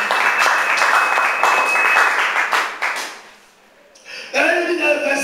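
Church congregation applauding and cheering during a French-language sermon, a loud sustained wash of clapping and acclaim for about four seconds that fades into a short lull before voices rise again.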